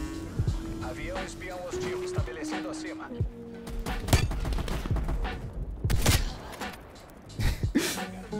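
Rapid bursts of video game gunfire, repeated shots in quick clusters mixed with game effects, with a voice talking over the action.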